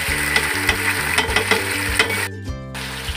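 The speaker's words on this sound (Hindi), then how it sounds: "प्याज को हम फ्राई कर लेंगे।" About three large onions sizzle and fry in hot oil in a pan, with a steady loud hiss, stirring scrapes and brief clinks of utensils, alone without talk.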